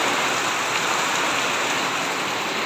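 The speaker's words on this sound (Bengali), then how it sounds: "অনেক ঝড় বৃষ্টি, আমরা ভয়ে ভয়ে আছি" Heavy storm rain pours in a dense, unbroken roar, loud and close from start to finish with no voices over it.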